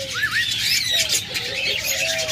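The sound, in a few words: budgerigar calls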